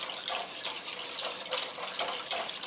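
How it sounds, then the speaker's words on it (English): Cold grapefruit juice is poured into hot water mixed with agar, giving a close, steady splashing pour with bubbling surges, alone without talk. "the cold grapefruit juice to the hot water and not the other way around"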